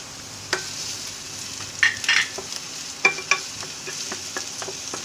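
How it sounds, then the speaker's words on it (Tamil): Onions sautéing in hot oil for cutlets, with sharp scraping stir strokes of a spatula against the pan at irregular intervals over a soft, steady sizzle, close and moderately loud with no talking. "வதக்க போகிறேன்."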